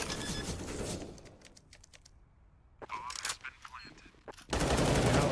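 Rapid automatic fire from a Galil rifle in the video game CS:GO crackles in dense bursts, then stops briefly for scattered clicks and shorter shots before another loud sustained burst at the end.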